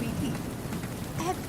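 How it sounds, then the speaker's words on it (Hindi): Heavy rain in a Hindi cartoon makes a dense, steady hiss of falling water throughout, with a faint voice briefly audible beneath it. "बाहर बहुत तेज बारिश हो रही है।"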